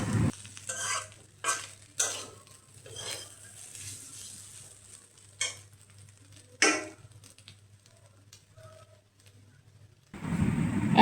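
A spoon stirs katla fish roe and potato mixture in a pan with a soft, steady sizzle, broken by several sharp scraping strokes and a louder clatter at the very end.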